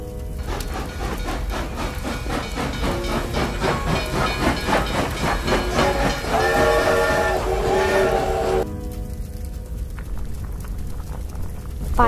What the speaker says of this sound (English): Burning coal in a steam engine helps the engine to move.